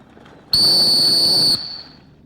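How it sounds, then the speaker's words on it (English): A handler's sharp, high whistle blast directing a retriever at a field trial, a single loud tone lasting about a second, close and clear over quiet outdoor background. "He's having to burn a few more whistles right here than he expected."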